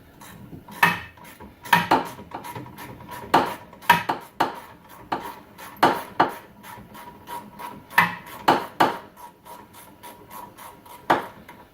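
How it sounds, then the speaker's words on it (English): Metallic clanks and ratcheting clicks come in irregular bursts as the bottom bolt of a rear shock is worked loose on a 2007 Nissan Altima, close and distinct with no talking. "Gonna finish taking this bottom bolt out."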